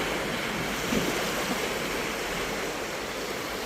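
Sea waves washing onto a sandy Giresun beach where a stream flows into the sea, a steady, close, broadband rush of surf and running water with no voices.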